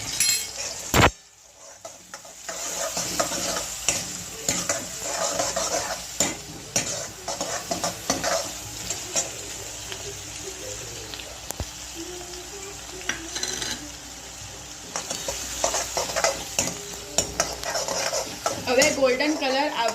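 Onion, garlic and green chillies stirred and sizzling in a pan for a healthy dal, with steady frying hiss, utensil scrapes and occasional clinks of a spoon against metal throughout.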